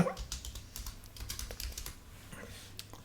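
Rapid typing on a computer keyboard while building a website, a quick run of crisp, close key clicks over about three seconds with no talking.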